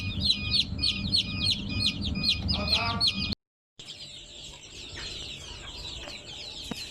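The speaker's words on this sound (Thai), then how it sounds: "ส่วนนี้ก็จะเป็นลูกไก่นะครับ" Many native chicken chicks, about two to three weeks old, peep in rapid, high-pitched chirps close by, a busy continuous chorus broken by a brief silent gap before resuming.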